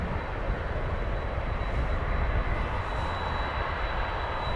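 Boeing 767 airliner arriving at DFW Airport, a broad continuous engine roar that stays steady and loud throughout, with no talk over it.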